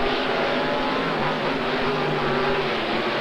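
Monster trucks King Kong and Carolina Crusher roar off the starting line at a race, a dense, loud, continuous engine rumble with revving that holds steady throughout.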